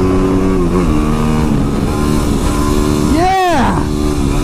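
A Yamaha WR250R motorcycle rides along twisty roads, its engine a loud steady drone with wind rush, and a brief sweeping whoosh of a vehicle passing close by.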